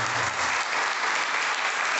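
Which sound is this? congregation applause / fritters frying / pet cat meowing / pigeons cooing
congregation applause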